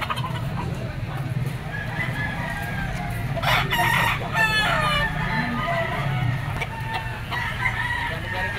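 A bull stag rooster crows amid a chicken auction market in Lipa, the drawn-out call rising over steady crowd murmur and other fowl clucking nearby, with someone talking in the background.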